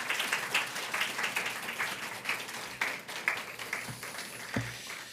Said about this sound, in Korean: 우리 목사님을 환영의 박수로 모시도록 하겠습니다